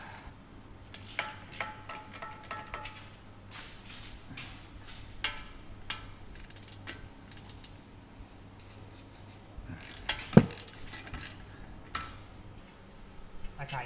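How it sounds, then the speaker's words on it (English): A 1/2 inch ratchet works loose the 21mm caliper bracket bolts on an Audi S5 B9 during a front brake replacement, producing faint, rapid clicking bursts and scattered metallic taps, with a louder knock near the end. "use a 1/2 inch ratchet for this"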